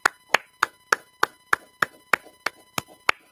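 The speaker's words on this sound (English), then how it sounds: "Clap it up, clap it up" Sharp, evenly spaced claps in a class setting, about a dozen crisp strikes at a steady rhythm, loud and close with no talk over them.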